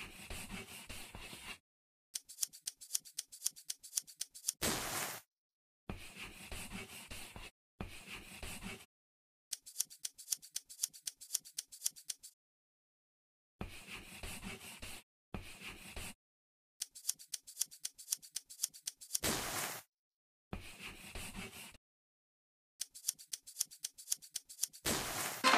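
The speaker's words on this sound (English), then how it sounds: "Let's cut out the details." Scissors cut fabric pieces in a sewing and dress-up mobile game, heard as repeated rhythmic runs of crisp snipping clicks broken by short silences and occasional brief swishes, clean and close with no talking.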